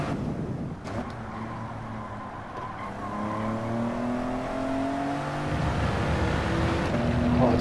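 A Mitsubishi GTO racing engine in Gran Turismo 7 at Deep Forest roars and revs, its pitch climbing through gear changes with steady, loud mechanical droning throughout.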